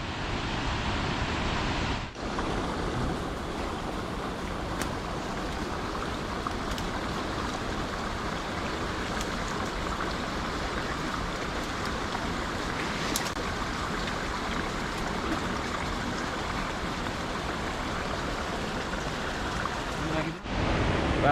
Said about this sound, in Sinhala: අර වැටෙන්නේ පහළින් සුන්දර බෝමුරු ඇල්ල